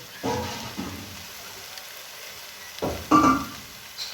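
Short bursts of green jackfruit kofta balls sizzling as they fry in oil, two separate spells with quiet between, fairly soft and close.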